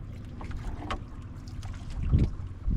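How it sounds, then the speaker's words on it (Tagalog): Steady wind rushing over open water, a constant blustery roar with a heavier gust swelling near the end, no voices. "Mas lalong lumakas yung hangin"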